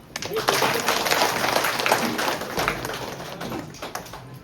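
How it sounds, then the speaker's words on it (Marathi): Dense, steady crowd applause from an audience at a stage ceremony, loud and close, sustained throughout with a voice heard faintly over the clapping. "जोरदार टाळ्या वाजवा"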